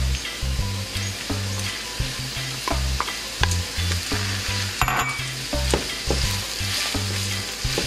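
Chiles and onion fry loudly in a pan, a dense, continuous sizzle broken by occasional scraping stirs close by.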